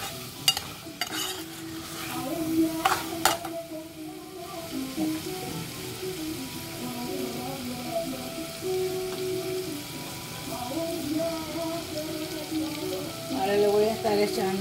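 Sauce fries in a pan under steady stirring, giving a close, crackling sizzle with spoon scrapes and clatter, and muffled tonal sounds run faintly in the background.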